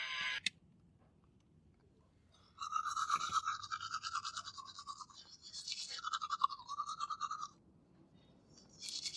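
Toothbrush scrubbing teeth inside a parked car, a steady close rasping brush with short pauses, alone with no talking.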